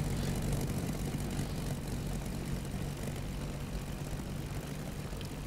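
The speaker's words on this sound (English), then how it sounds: "there's the Ju-88 Plummer Squadrons making their way across France towards England for their bombing run." Steady droning of Ju-88 bomber squadron engines in a flight video game, a continuous low propeller hum at moderate distance with no talk over it.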